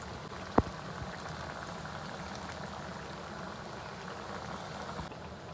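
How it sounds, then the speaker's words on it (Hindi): Vegetable strip nuggets sizzling in hot oil, a steady, soft, close crackle with a single sharp click near the start. "एक तरफ से ये फ्राई हो जाते हैं तो हम दूसरी तरफ से इनको फ्राई करते हैं"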